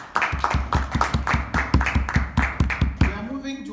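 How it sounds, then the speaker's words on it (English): An audience claps for a speaker in a brisk, steady rhythm of sharp, close claps that runs for about three seconds and then stops abruptly. "I think we should give him a clap"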